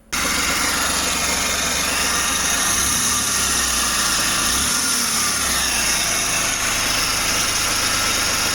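Under a non-turbo Suzuki DA64W minivan, a running engine idles with a worn tensioner bearing, giving a constant loud whir and hiss over a low steady hum, close by and continuous, with no voices.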